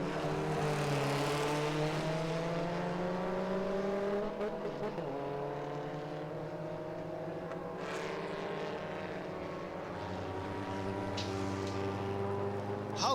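Race cars drone loudly past the finish line, engine tones sliding in pitch as the close pair crosses, a sustained roar that eases slightly before building again.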